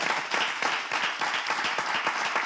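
An audience applauds at a university theatre troupe tribute, dense continuous clapping from many hands, loud and sustained without a break.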